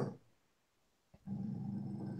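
A dog growls low and close, a rough rumbling snarl that starts after a brief quiet gap and a short thump, continuing steadily to the end.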